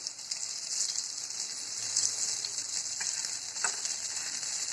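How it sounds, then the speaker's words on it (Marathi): Thalipeeth, a pumpkin fasting flatbread, sizzling and crackling as it roasts on a hot pan, a steady close frying hiss with a few sharper pops, no voices. "आता दुसरी बाजू पण भाजायला असे लालच भाजायचे"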